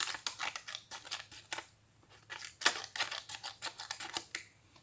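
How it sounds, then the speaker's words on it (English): Small scissors on an Ozark Trail pocket multi-tool snip repeatedly in a quick, irregular series of close, crisp cuts with short pauses, alone and without talk. "Let's use the scissors first."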